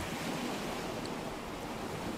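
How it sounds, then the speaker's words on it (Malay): Roaring sea waves make a steady, broad wash of surf with no distinct breaks, faint and distant, with no voices. "Suara ombak laut bergemuruh"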